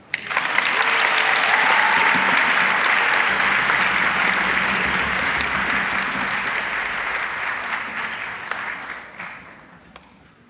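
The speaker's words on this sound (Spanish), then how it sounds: "pueden aplaudir entre medio" Loud audience applause from a concert hall after a classical piece by the Orquesta Filarmónica Alimapu, sustained and dense, beginning sharply and slowly fading toward the end.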